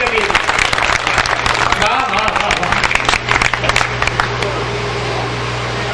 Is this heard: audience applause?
yes